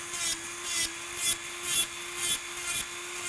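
A hand file rasps across acrylic nails during a pink-and-white backfill, about seven brisk back-and-forth strokes in an even rhythm over a faint steady hum.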